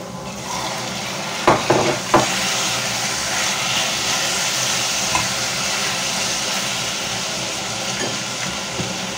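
Chicken pieces dropped into a hot pan of half-cooked onion, a few sharp clattering hits followed by a steady close sizzle of frying that continues on its own.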